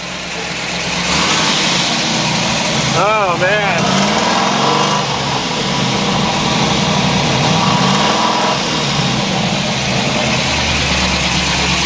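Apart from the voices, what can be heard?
1969 COPO Camaro 427 engine revving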